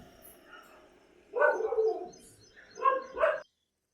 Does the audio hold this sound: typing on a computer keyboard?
no